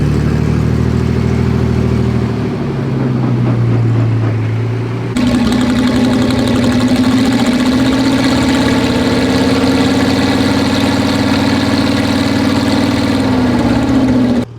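A restored 1952 Chrysler air raid siren engine runs loud and close, a deep steady rumble that shifts pitch and swells louder around five seconds, then holds a strong continuous roar without voices.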